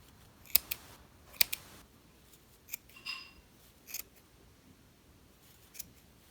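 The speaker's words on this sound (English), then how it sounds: "just weave your scissors through to make sure you cut all of your loops." Several sharp snips of scissors cutting through yarn loops, spaced irregularly, close and fairly quiet against a soft background.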